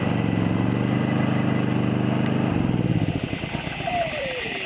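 A generator engine at a campsite drones steadily at mid pitch at close range for about three seconds, then cuts off, leaving a quieter rattling hum and a faint whine.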